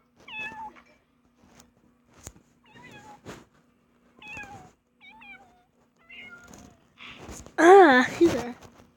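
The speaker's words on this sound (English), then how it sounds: "He's a feisty cat." A cartoon cat meows in the Toca Kitchen video game, several short mewing calls spaced apart and ending in a louder, drawn-out yowl, with quiet taps between them.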